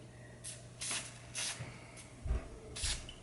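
Several short hissing bursts of spray paint onto a reindeer figure, quiet and close, separated by brief pauses.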